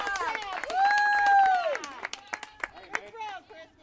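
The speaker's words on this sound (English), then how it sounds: "You definitely hear a lot more cheering on from the benches as we have a stolen base attempt here" Players on the benches at a college softball game cheer and shout during a stolen base attempt, with whoops, clapping and crowd chatter rising and falling in bursts.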